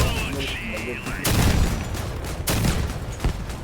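Cannon blasts ring out in the vehicle combat game Crossout, with a sharp loud boom partway in and a second one soon after, each followed by rumbling debris, over a mechanical whine and faint voices.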